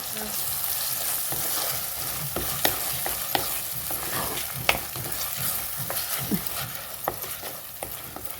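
Sardine fish masala sizzling in a pan as it is stirred, Mangalorean style, with a steady frying hiss and irregular scraping clicks of the spoon, close up, with no talking.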